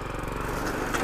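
A mini soil tiller's small engine runs steadily up close, a loud buzzing drone with a rapid pulsing rhythm and no talk.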